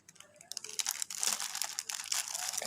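A plastic bag crinkles and rustles close by as potato samosas are packed into it for freezing, with irregular loud crackling bursts.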